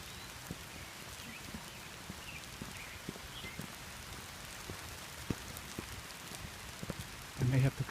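Rain patters steadily along the river on the Seven Bridges Trail in South Milwaukee, a broad close hiss with scattered sharper drops and a brief louder rustle near the end.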